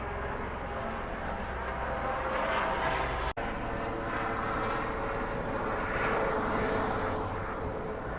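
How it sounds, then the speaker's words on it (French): A steady, broadband helicopter drone hangs over an airfield beside hangars of old military aircraft, a continuous rumble and whine at moderate distance with no talk, briefly interrupted by a short dropout. "On disait bien que j'avais entendu un hélicoptère."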